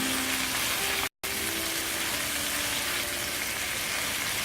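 Shrimp frying steadily in a pan as a home cook prepares Portuguese garlic shrimp, a continuous broadband sizzle with faint tonal notes, likely distant piano, underneath and one brief dropout near the start.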